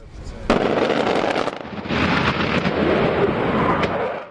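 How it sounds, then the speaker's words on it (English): Fighter jets strafing hillsides in a Kunar valley, Afghanistan, with a sudden loud blast followed by sustained rumbling gunfire and roaring, distant yet powerful, continuing throughout. "10 minutes later, jets swoop in to strafe the hills."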